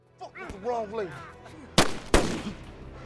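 Two loud, sharp gunshots in a film scene, fired about a third of a second apart after a brief stretch of voices, each leaving a short echoing tail.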